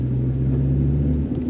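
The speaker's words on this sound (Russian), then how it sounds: "Машина, в принципе, работает на прогревочных оборотах" A 25-year-old Volkswagen Golf 3 with single-point injection idles at warm-up revs, giving a steady, close, even low engine rumble with no change in pitch and no talk.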